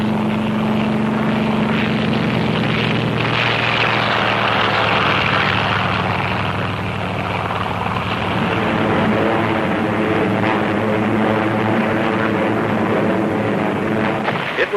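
Task Force 58 warplanes roar overhead during an aerial assault on Kyushu, with loud, droning propeller engines holding a continuous, dense rumble that shifts slightly in pitch as the aircraft pass.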